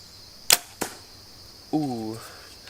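Two crossbow arrows from a Raven crossbow strike a target in quick succession, sharp loud thwacks about a third of a second apart, followed by a brief tonal ringing or creak.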